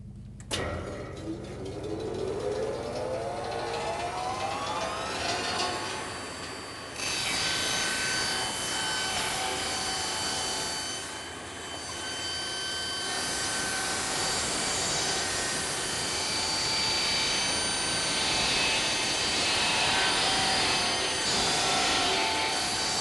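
A circular rip saw spins up and cuts diagonally through a piece of timber with a loud, continuous, grinding roar that holds steady for over twenty seconds, with no one talking over it.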